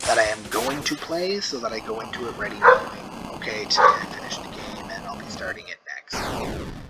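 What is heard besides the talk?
boxer dog barking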